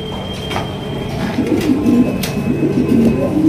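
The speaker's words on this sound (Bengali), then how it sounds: "এখানে রয়েছে চমৎকার হাই কোয়ালিটির একজোড়া বিউটি কবুতর দেখতে পাচ্ছেন" Beauty breed pigeons coo softly at a busy pigeon market, low murmuring calls continuing under general crowd background noise, no speech.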